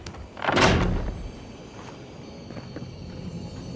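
A door opens in the fantasy game Avowed, a single loud burst of scraping and rumbling near the start that fades into a low ambient hum.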